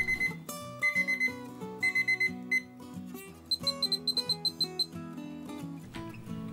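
A kitchen timer alarm goes off during baguette baking, sounding in several clipped bursts of repeated bright beeps over a ringing tonal background, fairly loud and close.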